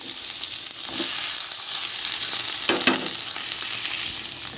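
Garlic paste and black cumin spices fry in hot mustard oil in a pan, giving a steady, loud sizzle with a few scraping stir strokes and no talking.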